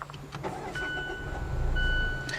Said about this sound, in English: push the button to fire up the engine